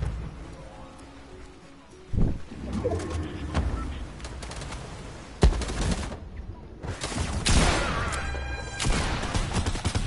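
Shotgun blasts in a video game ring out as several sharp bursts spread across the stretch, loud against game ambience, with players talking over the shooting.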